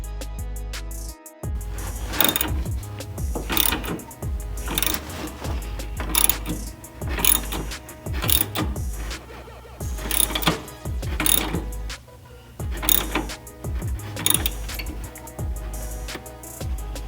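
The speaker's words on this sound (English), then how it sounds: "All right, clamp is on, guys. I just gotta crimp it down." A boot clamp on a Porsche Cayman/Boxster axle is crimped down with a hand tool, giving a steady series of sharp metallic clicks and crunches about once a second, close and fairly loud, with no talking.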